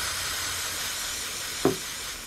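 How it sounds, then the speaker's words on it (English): Brake cleaner sprays from an aerosol can onto a washable air filter from a 2004 EZGO TXT gas golf cart, a steady close hiss with one brief knock near the end. "I like to use brake cleaner to clean them."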